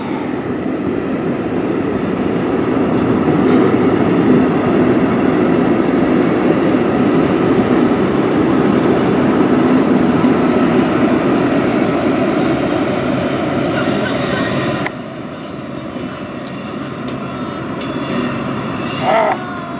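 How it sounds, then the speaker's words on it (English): A CN freight train with its locomotives rumbles past nearby, a loud, steady roar of engines and rolling wheels that drops somewhat toward the end. "Get another shot of the lead locomotive on this end."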